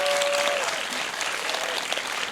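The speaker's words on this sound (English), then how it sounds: "Please join me one more time in giving a round of applause to Ms. Youn Yuh-jung." An audience at the 36th Singapore International Film Festival gives a warm round of applause for the guest after an onstage conversation, dense sustained clapping filling the hall at steady loudness.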